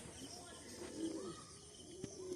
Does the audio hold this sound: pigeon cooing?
yes